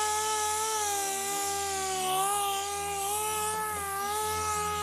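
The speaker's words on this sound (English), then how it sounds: "Take it out with the sander." A power sander working body filler on a car hood during dent repair, a steady high-pitched whine with a wavering tone, close and continuous throughout.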